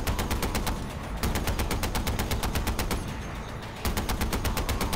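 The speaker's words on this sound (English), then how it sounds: "I got a headshot with a machine gun turret." Sustained bursts from a machine gun turret in the video game Far Cry 4, loud rapid evenly spaced shots in long strings with two brief dips in intensity, no voices.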